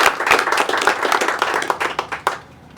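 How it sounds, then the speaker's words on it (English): A round of applause for police officers at a handover ceremony for the Royal Virgin Islands Police Force barracks, moderately loud clapping from a gathering that thins into scattered claps before stopping. "I want to just give a round of applause to our police officers in Virgin Gorda."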